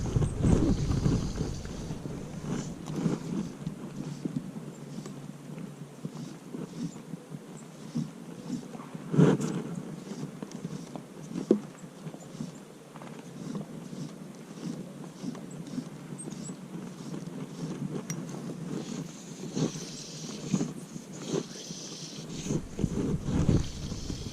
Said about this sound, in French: il y a un coup de vent